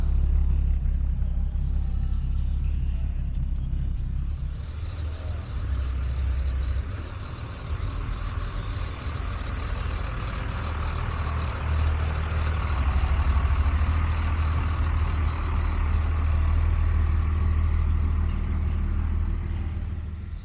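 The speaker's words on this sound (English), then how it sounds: "Double carburetors and a 6-cylinder engine." A car with double carburetors and its original straight-six engine idles at a car show, a steady low rumble held throughout, with a high, chirping insect-like whine layered over it from a few seconds in, and no talk.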